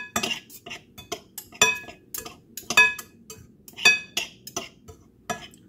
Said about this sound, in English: So we're going to cut the flour crisscrossing until it become coarse crumbs.